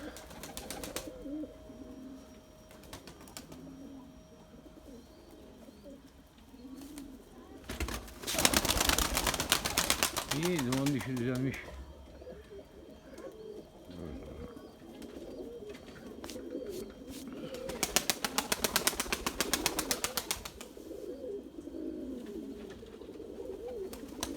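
Pigeons cooing close by in soft, repeated low calls, with bursts of fluttering and rustling noise partway through.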